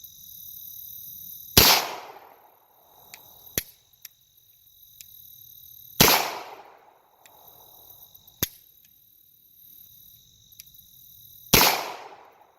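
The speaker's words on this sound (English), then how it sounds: "I'm going to roll some double action only intentional shots just to kind of get used to the double action trigger" A Beretta M9A3 9mm pistol fires three sharp, loud double-action shots spaced several seconds apart, each with a short echoing tail, over a steady high insect-like hum with faint clicks in between.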